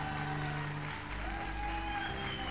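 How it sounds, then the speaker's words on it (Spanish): Studio audience applauding a contestant on a Chilean televised singing competition gala, a steady wash of clapping with music playing underneath throughout. "Un aplauso para la inmune Bernardo Cedín"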